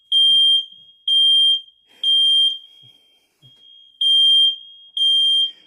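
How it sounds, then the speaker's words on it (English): Loud fire alarm sounding indoors in a steady pattern of five high, piercing beeps, each about half a second long with short gaps, heard alone with no talking. "And there goes the fire alarm."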